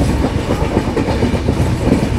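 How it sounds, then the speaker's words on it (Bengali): The Jalpaiguri Road–Sealdah Humsafar inaugural special train runs fast through Kasimbazar station without stopping, its wheels beating a loud, rapid, rhythmic clickety-clack over a continuous rumble of moving coaches. "জলপাইগুড়ি রোড শিয়ালদহ হামসফর উদ্বোধনী special train Kasimbazar rail station skip করে বহরমপুর কোর্ট যাচ্ছে।"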